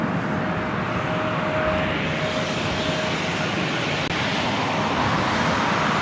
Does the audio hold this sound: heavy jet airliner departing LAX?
yes